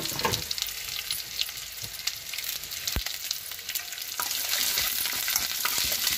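Onion and curry leaves fry in hot oil in a pan of ladies finger curry, giving a steady hiss and sizzle with occasional stirring scrapes and no talking.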